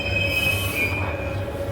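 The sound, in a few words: metro train wheels squealing in a subway station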